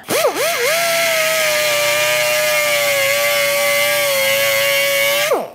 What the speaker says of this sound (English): I'm going to stick a burr bit on the die grinder and just kind of bury the nose of it into the corner there